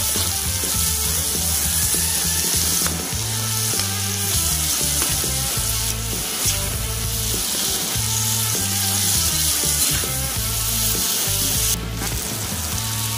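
Onion and tomato sauté loudly in a pan, a dense, continuous sizzle with rubbing stirs, and a steady tonal layer underneath.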